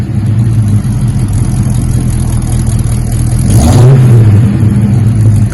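A 1968 Mercury Cougar V8 fitted with Magnaflow mufflers idles with a deep, loud rumble, then revs once, rising and falling before settling back to idle, with a slight exhaust manifold leak.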